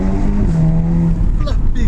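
Audi TTS engine revving hard and pulling through quick gear changes, a loud sustained drone that steps in pitch with a brief dip around a shift, with wind buffeting and some talk over it.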